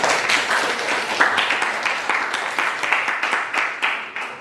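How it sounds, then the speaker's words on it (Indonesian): Classroom applause during a basic photography lesson at a school, a fairly loud, steady patter of many hands clapping with a few sharper claps standing out, continuing for several seconds. "tepuk tangan dulu"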